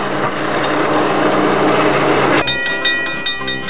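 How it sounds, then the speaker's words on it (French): Loud rumbling rail noise at a railway marshalling yard that shifts partway through into sharper clattering and high metallic tones, like trains drawing near. "il y a des trains qui approchent"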